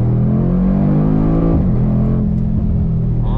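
A 2021 Mercedes-AMG G63 accelerates hard in first gear, its engine rising in a loud, close, steady roar with a brief dip at an upshift before pulling strongly again.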